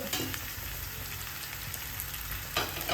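Chopped shallots frying in hot oil for an okra curry, a steady close crackling sizzle with a brief stir near the end.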